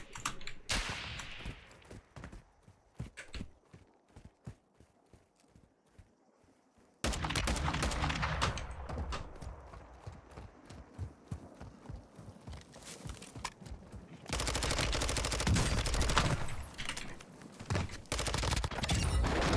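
Dense bursts of gunfire in the battle royale game Warzone, with rapid volleys and single shots rattling across the whole stretch and growing louder and busier in the second half, mixed with footsteps.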